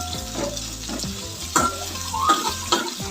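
Chopped onions tossed into a hot pan with cinnamon and cloves, frying with a steady crackling sizzle and sharp scraping stirs for a kurma, close and fairly loud with no talking.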